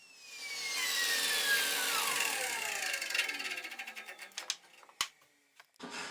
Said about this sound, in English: I can raise the saw blade up and take a pass all the way through.